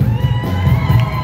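At a live tribute show for a band, a crowd keeps up a continuous roar of cheers, yells and whoops, loud and close, after the guitarist and bassist are introduced.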